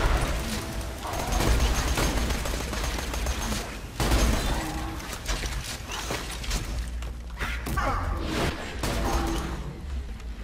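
Gunfire in the video game Borderlands 2 comes in quick bursts of shots and impacts, loud and busy throughout, with brief whooshes and mechanical clatter between volleys.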